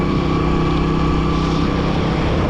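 A tractor engine runs steadily through a muddy, waterlogged field, a loud, close, continuous drone with a low throbbing hum and no voices.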